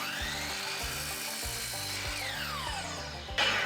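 A power saw whines steadily while cutting scrap wood pieces for a small woodworking project, with repeated cut strokes and a sharp rising squeal near the end, close and loud.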